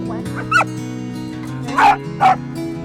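Several mixed-breed mongrel dogs, big, small, scruffy and fat, let out a few sharp barks and yips over a steady low background drone, with short bursts spaced across the stretch.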